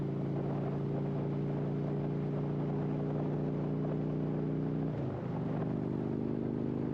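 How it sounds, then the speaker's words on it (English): Old Mack truck driving slowly, its exhaust a steady deep droning rumble with strong low tones, dipping briefly near the end before settling back into the same even note. "I don't want the sound of my exhaust to be drowned out the preacher."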